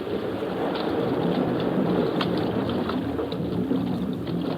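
Boat sound effect from an old-time radio drama, set offshore near an island: a steady, loud wash of engine rumble and rushing water that runs unbroken throughout, with no voices.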